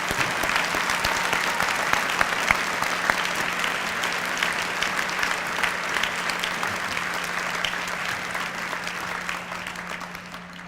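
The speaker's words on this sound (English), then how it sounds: "Let's give these students a round of applause." Sustained audience applause for students at a school academic awards ceremony, a steady dense wash of clapping from a large hall crowd lasting throughout and fading slightly at the end.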